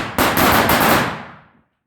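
A rapid, loud crackling string of firecracker bangs at the New Year 2022 midnight bursts out, then fades away within about a second and a half.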